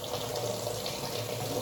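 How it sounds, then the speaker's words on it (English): Tap water runs steadily over peeled hard-boiled eggs as they are rinsed in a sink, a constant close rushing splash with no voices. "So make sure you rinse it off and get all the little pieces of shell."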